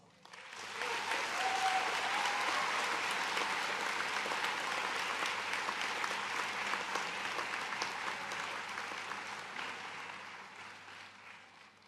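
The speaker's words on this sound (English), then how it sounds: "Let's give ourselves a big round of applause." Graduates at a university commencement give themselves a big round of applause, a broad crowd wash that rises quickly, holds strong for several seconds, then slowly fades out in a large hall.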